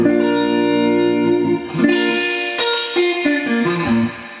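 Electric guitar chords ring out through a 1965 Fender 6G15 spring reverb unit, drenched and brightened by its tone control, sustaining with a splashy, echoing tail, loud and close.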